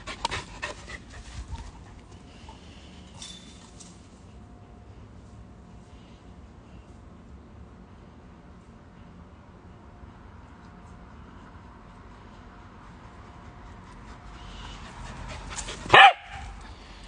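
A dog pants softly for a long stretch in a quiet room, then gives a single sharp, loud bark near the end; a couple of brief faint sounds come earlier.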